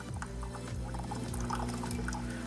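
A Breville espresso machine purges water in a short, steady pour and splash with a low mechanical hum underneath, close and continuous.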